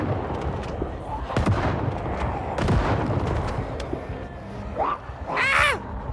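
Gunfire in the zombie survival game Project Zomboid: several sharp shots ring out over a busy, noisy background, with a few whooping, chirping sounds near the end.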